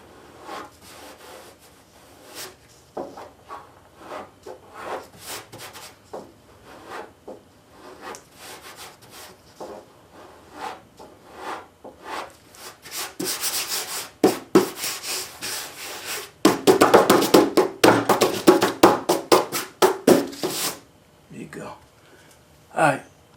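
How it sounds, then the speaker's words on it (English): Hand sanding with sandpaper along a body line on an F100 truck panel: steady rasping back-and-forth strokes, close and fairly loud, building into faster, harder strokes toward the end. "Barely got a body line here. But we can get the rest with sandpaper."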